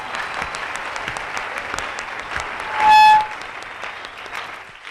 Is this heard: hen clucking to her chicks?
no